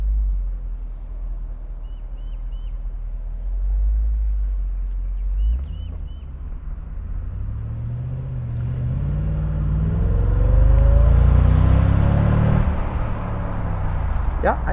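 A 2004 Mercedes SL55 AMG Designo Graphite Edition with a V8 engine drives along, its low rumble swelling as it accelerates and roars more loudly toward the end, heard from close by with road noise.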